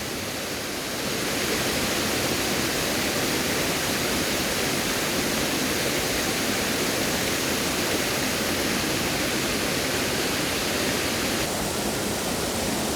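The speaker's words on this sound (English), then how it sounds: "That's the first or the last waterfall, whichever way you come from," Waterfall at the Fairy Glen, Rosemarkie, a loud, continuous roar of rushing water heard up close, steady and broadband throughout with no voices.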